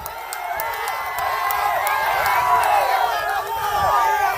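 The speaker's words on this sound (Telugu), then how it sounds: "ఇస్తున్నామంటే గట్టిగా చప్పట్లు కూడా చెప్పండి" A crowd at a political rally cheers and shouts together, a loud swell of many excited voices with scattered claps and whoops, rising and holding before dipping briefly near the end.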